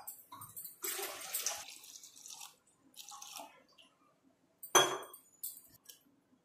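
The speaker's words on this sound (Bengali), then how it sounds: "এবার এর মধ্যে পরিমাণ মতন জলও দিয়ে দেব।" Water is poured into a pot of peas and potatoes while ghugni is cooked, coming as quiet splashing bursts with a few clinks of utensils and short pauses between pours.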